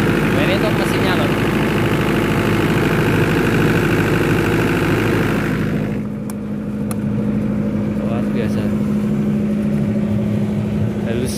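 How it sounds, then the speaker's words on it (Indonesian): A generator powering a large sound-system rig at an outdoor event in Boyolali's town square runs with a loud, steady low drone that drops and thins partway through, while someone talks over it. "ini untuk generatornya"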